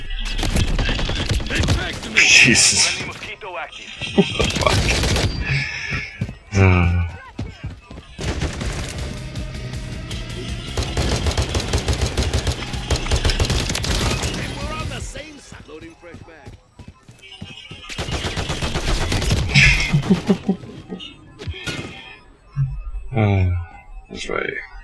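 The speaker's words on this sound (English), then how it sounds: "I hear gunfire." Rapid bursts of gunfire and sustained machine gun fire in a video game shooter, loud and repeated in clusters throughout, with players talking and exclaiming over the shots.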